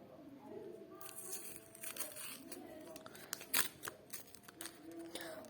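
A sticker packet being torn open by hand, close crinkling and ripping of thin plastic with a sharp tear near the middle, quiet and without talk.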